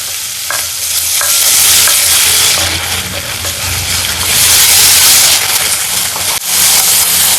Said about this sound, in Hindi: प्याज अच्छे से हम भूनने देंगे